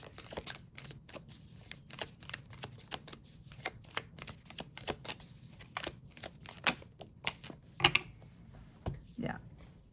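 A deck of tarot cards is shuffled and handled up close, giving a quick run of crisp flicks, riffles and snaps in irregular bursts, with soft voice murmurs now and then.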